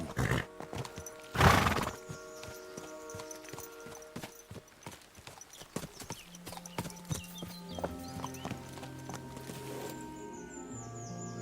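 A horse in Kingdom Come: Deliverance 2 whinnies loudly near the start, then its hooves clip-clop in an irregular walking rhythm as it slows, with faint game ambience and birdsong behind.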